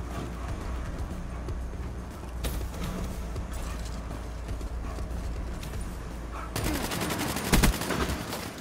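KM-44 rifle gunfire in Call of Duty Black Ops III, rapid clattering bursts of automatic shots in the final seconds over busy game noise and footsteps, with no talk.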